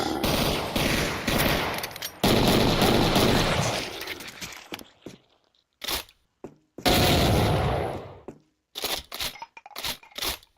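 Gunfire in Brutal Doom 64, loud bursts of rapid shots and blasts with crunching impacts, separated by short silences and then single sharp shots near the end.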